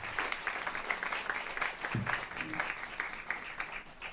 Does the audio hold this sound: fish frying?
no